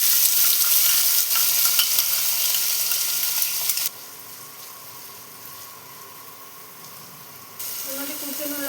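Two large chopped onions hit hot white oil, a loud broadband frying hiss that drops sharply partway through, then rises again near the end with faint scraping.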